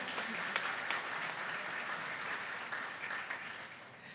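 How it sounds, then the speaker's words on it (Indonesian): Audience applause at an Indonesian kick-off ceremony for World Human Rights Day and a regional-election declaration for first-time voters, a dense steady wash of many hands clapping throughout, fairly close and even in loudness. "Kita berikan tepuk tangan yang meriah"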